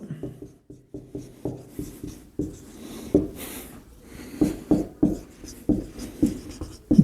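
Chalk or pen writing on a board during a Class 12 physics lesson, heard as a run of short rhythmic scratching strokes in close succession, fairly clear, with a teacher's voice speaking intermittently.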